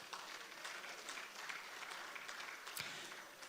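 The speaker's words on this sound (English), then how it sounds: "So give yourselves a round of applause." Steady, dense applause from a concert and awards audience, faint and distant with a continuous wash of many hands and no talk.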